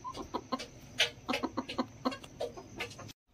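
A small flock of Silkie and bantam chickens, three hens and a rooster, clucking in a busy overlapping run of short calls, close and fairly loud with no talking.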